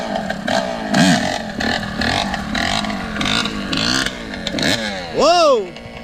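A motorcycle ridden by a learner, its engine revving up and down in short bursts with a sharp climbing rev near the end, heard close alongside talking.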